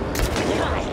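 Pistol fire in Alan Wake 2 cracks out in a quick burst of loud, close shots with reverberant tails, filling a single second.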